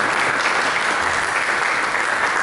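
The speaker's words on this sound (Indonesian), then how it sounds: "Berikan tepuk tangan yang meriah bagi Yesus." A church congregation claps together in loud, dense, continuous applause that fills the room without a break.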